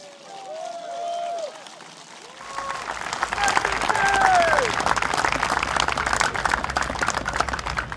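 Crowd applause and cheering at an SDP political rally for Marsiling-Yew Tee GRC in Singapore, swelling after a quieter start with voices, then sustained dense clapping that stays loud to the end.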